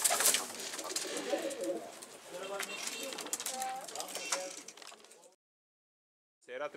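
Pigeons coo softly in a loft where a newly caught stray bird is being shown, a few low throaty calls scattered among rustling and handling noise, with someone talking nearby; the sound cuts out briefly near the end.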